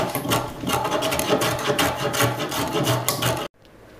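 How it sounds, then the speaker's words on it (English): A hand plane smoothing wood on a traditional woodworking bench, a dense run of rasping, rubbing strokes close up and fairly loud, continuous for several seconds before stopping abruptly, leaving a quiet room tone. "we now finish things off with the hand plane"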